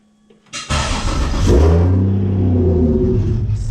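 A car with a standalone ECU, stuck in gear with no shifter, cranks and catches at once, then settles into a loud, steady idle with a strong low rumble. It runs smoothly for a few seconds. No voices are heard.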